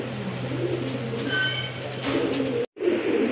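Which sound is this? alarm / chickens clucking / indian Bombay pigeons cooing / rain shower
indian Bombay pigeons cooing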